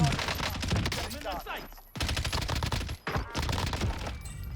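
Rapid automatic gunfire bursts in Call of Duty Warzone on Rebirth Island, loud and close, with brief pauses between long volleys and some game voice in the mix.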